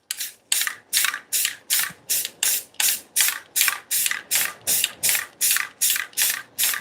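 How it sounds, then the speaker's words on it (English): Aerosol spray can sprayed in short repeated bursts under a table, about a dozen hissing pulses in a steady rhythm, close and loud with brief gaps between each spray. "I'm spraying under my table."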